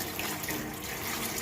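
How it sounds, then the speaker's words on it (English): Permeate water pours steadily into a maple syrup evaporator pan during cleaning, a constant bright splashing rush with no breaks. "we're mixing in our permeate water here into our pan"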